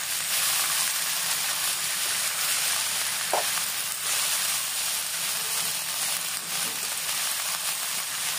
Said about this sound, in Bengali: খুব ভালো মতো এগুলোকে ভালো মতো ভেজে নিতে হবে